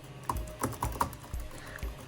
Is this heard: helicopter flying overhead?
no